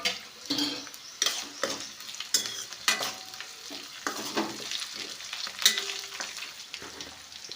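Finely chopped green chillies hiss and spit in a hot pan while a spoon stirs them, giving close, uneven bursts of sizzling with scraping strokes and light metal taps, no talk.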